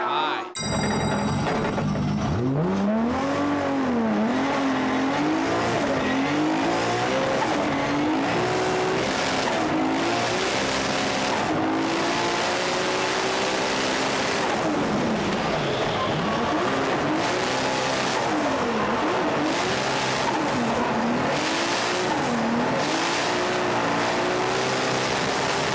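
A D1GP drift car screams up through the gears to fifth, the engine note rising and falling in long sweeps with tire squeal, loud and continuous throughout.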